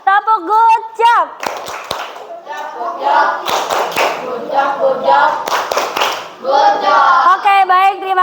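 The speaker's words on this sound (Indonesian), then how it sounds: "kita tepuk good job dulu" A group of children do a rhythmic clapping chant in class: sung voices alternate with sharp, loud, patterned hand claps, all heard up close.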